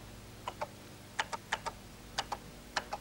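Keys pressed on an old home computer while typing a cassette load command: eight distinct, evenly spaced clicks in pairs, fairly quiet against a low background hum.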